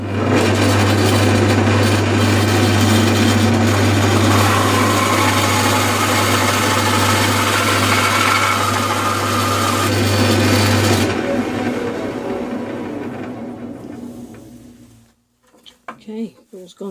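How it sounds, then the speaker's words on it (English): A bandsaw cuts wood for a small ring box, a loud steady motor hum and blade drone running for about eleven seconds, then spinning down and fading before a few faint handling knocks. "So that should be the end of all the bandsaw cutting."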